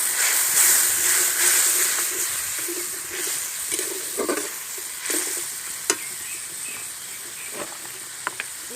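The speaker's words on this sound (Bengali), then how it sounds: "কাজু আর পোস্ত ধোয়া জলটা আমি দিয়ে দিচ্ছি।" Cashew and poppy seed soaking water poured into a hot pan of frying spices and vegetables, a loud sizzle and hiss that settles into steady frying with occasional stirring scrapes.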